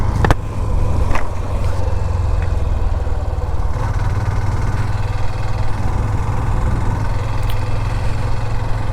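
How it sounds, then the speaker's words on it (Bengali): A Yamaha R15 motorcycle approaches from behind on a road at night, a steady mid-pitched engine drone under another bike's running engine, with a couple of brief clicks early on. "পিছনে একটা R15 আসতেছে"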